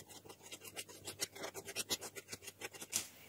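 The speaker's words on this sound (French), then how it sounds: "on va venir mélanger le tout à la spatule jusqu'à obtenir quelque chose de bien crémeux" A spatula mixes soft butter and caster sugar in a bowl for coconut biscuits, making rapid rhythmic scraping strokes that are close and faint with no voices.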